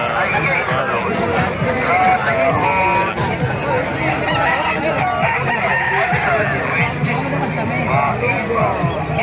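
Many chickens cluck and roosters crow continuously amid busy crowd chatter at a chicken market in Bocaue, Bulacan, a loud, dense market din with voices talking throughout.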